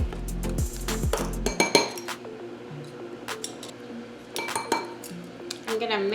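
A spoon clinks against a bowl while sugar, cinnamon, allspice and nutmeg are stirred together, giving a series of sharp, close metallic taps in irregular bursts, with a low hum early on.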